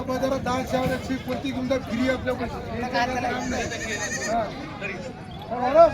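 Goats bleat repeatedly amid a crowded outdoor village goat market, with people talking and chattering all around in a steady background babble.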